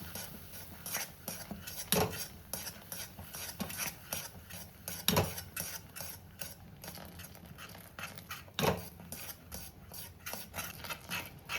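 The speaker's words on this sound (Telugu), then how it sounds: "ఇలా ఉండలు కట్టకుండా బాగా కలపాలి" A spoon stirs protein halwa with syrup in a pan, giving repeated soft scraping and clinking strokes at a fairly even rhythm, close but quiet, with a few louder knocks against the metal.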